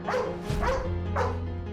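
A police dog barks in a short run of about three loud, close woofs and yelps, with background noise throughout and no talking.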